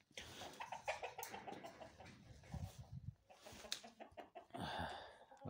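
Chickens cluck in short, irregular bursts close by, a farmyard flock mixed with faint background noise.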